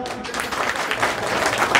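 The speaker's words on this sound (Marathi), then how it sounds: "एकदा यांच्यासाठी टाळ्या वाजवा." Audience clapping in a lecture hall, a steady burst of applause filling the space for about two seconds at an even, fairly loud level.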